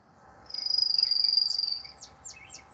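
A phone notification goes off as a bright, high electronic trill lasting about a second, followed by a few short, quick chirps. The sound stands alone, close and clear, over a quiet room.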